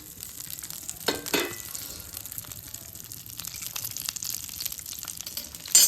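Bitter gourds (karela) fry in a pan with a soft, continuous sizzle, broken by a brief louder burst of hissing and some stirring near the start.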